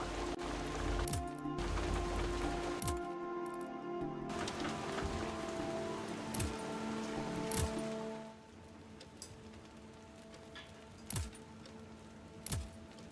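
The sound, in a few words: rain in a WWI hospital management video game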